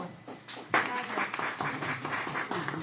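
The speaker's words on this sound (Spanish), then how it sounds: "un aplauso para ellos, por favor" Audience applause follows the introduction of two speakers at a literary conversation event, a dense patter of clapping that starts softly and swells suddenly into a steady, fairly loud ovation.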